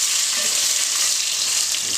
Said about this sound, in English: So, let's watch this splatter.